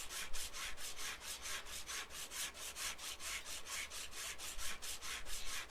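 Rhythmic rasping strokes of sanding a car in a video game repeat steadily, back and forth about three times a second, close and alone.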